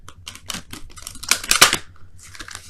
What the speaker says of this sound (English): let me go ahead and quickly shuffle these for your romance angels of the week